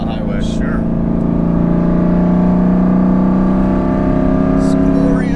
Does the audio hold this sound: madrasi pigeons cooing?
no